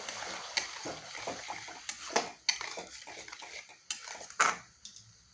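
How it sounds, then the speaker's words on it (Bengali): Potato masala is stirred and sautéed in a pan, a metal spoon clinking and scraping against it in irregular bursts over a soft sizzle, close and fairly quiet. "এখন এটা ভালোভাবে কষিয়ে নেব"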